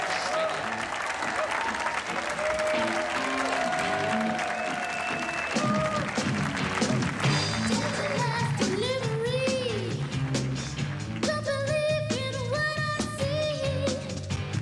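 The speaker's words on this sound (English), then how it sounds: "Give them a big round of applause, ladies and gentlemen." Audience applause greets the final contestants of a television talent show, the clapping mixed with loud music carrying tonal lines and shifting pitches that runs throughout, while voices cheer or sing over the din.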